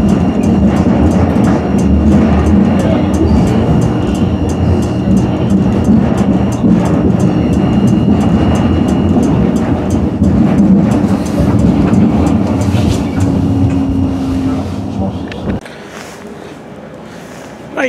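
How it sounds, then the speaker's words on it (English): A Sheffield tram train rumbles along the track, loud and close, with rail noise, clatter and a rising tone before it slows and quiets near the end. "is the tram train service to Cathedral"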